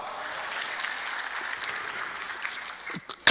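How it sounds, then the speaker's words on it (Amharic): Warm applause from the audience at the Badr conference, a steady wash of clapping from many hands that thins out at the end. "ሞቅ ያለ ጭብጨባ።"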